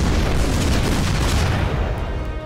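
A heavy, rumbling boom of an artillery blast in the video game ShellShock Live rolls on continuously, loud and close, slowly fading toward the end.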